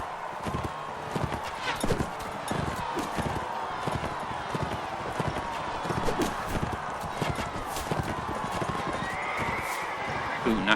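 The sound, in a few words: horse hooves galloping in Mount & Blade video game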